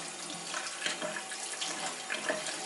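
Tap water running into a sink while paint brushes are rinsed, a continuous faint hissing stream with small splashing variations, no voices.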